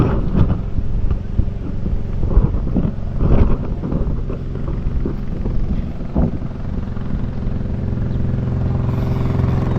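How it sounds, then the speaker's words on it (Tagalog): Strong southwest monsoon wind blowing near a moored boat, a heavy, steady roaring rumble with gusty surges and no talking, loud and close to the microphone. "malakas mga amigo ang habagat dun sa punduhan"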